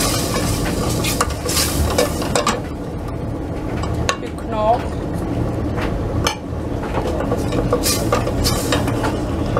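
Chopped onion and garlic frying in a pan, a loud, close, continuous sizzle with frequent clatter and scraping of a spoon against the pan, and a voice talking over it at times.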